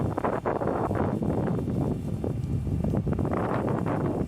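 Strong wind buffets the microphone in a continuous loud roar with gusty surges, no voices present.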